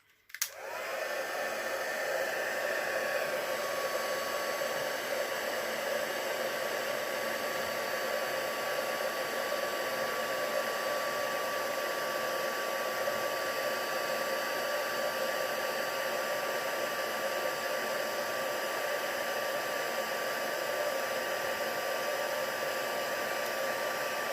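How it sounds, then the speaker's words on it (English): An embossing heat tool blows steadily to melt powder on a handmade greeting card, a constant close whooshing hum with a faint whine that starts abruptly and runs unbroken. "And then I'm just going to heat emboss that, so I won't be a moment."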